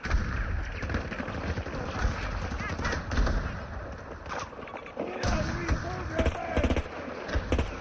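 Gunfire in the Battlefield 2042 video game comes as rapid bursts of shots mixed with other game effects, with a voice talking over parts of it.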